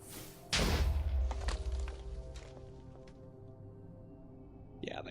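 A spell explosion bursts in modded Minecraft with a sudden loud low boom that rumbles and fades over a few seconds, followed near the end by a brief crackling sound.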